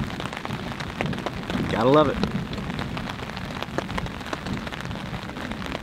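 Steady rain drums on a backcountry camp tarp during a thunderstorm, with a low rumble of thunder and a brief voice speaking near the middle over the constant patter.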